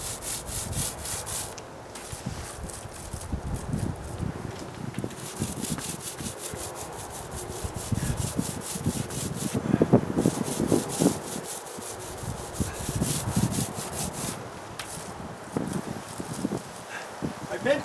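A paintbrush working paint into a textured stucco wall, with repeated scratchy rubbing strokes back and forth, close up, while a person talks over much of it.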